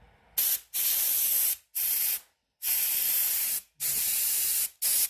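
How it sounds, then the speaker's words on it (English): Compressed air is blown through a part from a cheap quad bike in five sharp, loud hissing bursts separated by short silences, close by with no talking. "grab a bit of compressed air and give it a blow through, make sure there's no metal left in there"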